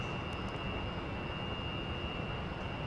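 Su-27 jet engine roaring steadily in the DCS flight simulator during a low-speed gear pass near a runway, a loud continuous broadband rumble with a thin high whine running throughout, no talk.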